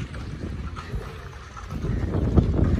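Outdoors in the Tombstone, Arizona ghost town, gusts of wind buffet the microphone in low rumbling bursts that grow louder toward the end.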